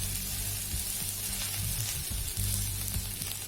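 A vegetable uthappam, pressed flat so the vegetables underneath cook, sizzles on a hot pan with a steady, close, even crackle and one or two brief shifts in the hiss.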